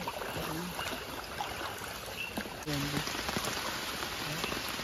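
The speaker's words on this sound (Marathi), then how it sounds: "पावसाचं आगमन झालंय." The first monsoon rain of the season pattering on stream water in Konkan: dense, steady drops tapping the surface nearby, with faint voices in the background.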